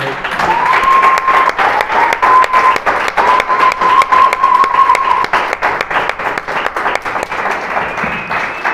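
Loud, close applause fills a Spanish-speaking church meeting, many hands clapping in a steady, dense rhythm with a sustained tone or voice ringing above for the first few seconds.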